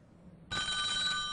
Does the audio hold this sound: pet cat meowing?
no